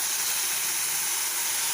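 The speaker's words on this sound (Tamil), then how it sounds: "இப்போ நான் இந்த தேங்காய் பாலை ஊற்றி அதை வேக வைக்கிறேன்." Coconut milk heats in a pan for jackfruit payasam, giving a steady, close hiss like steam and a low simmer with no breaks or voices.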